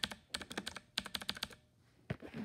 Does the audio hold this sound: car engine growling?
no